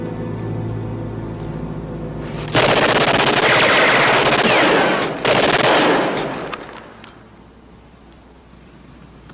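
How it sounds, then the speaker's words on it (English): Sustained machine-gun and rifle fire in a 1960s World War II TV drama, a loud dense burst that stops abruptly, resumes, then fades into quieter rumbling. "You're firing at the wrong guys."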